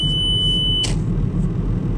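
An old car's low-fuel warning sounds as one sustained, shrill electronic tone that holds for almost a second and then cuts off, leaving a low engine rumble underneath.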